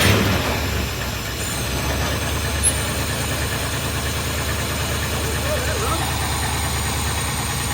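A Ford F150 engine runs just after starting, a steady low idling rumble with a slight knocking texture that holds for several seconds, with voices faintly in the background.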